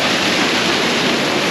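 Courtallam waterfall roars as a loud, dense, continuous rush of falling water, close and steady with no voices over it.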